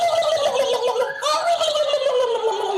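Turkeys gobble loudly and up close at a gobbling contest in the Dordogne, rapid rattling calls overlapping in quick bursts that carry on without pause.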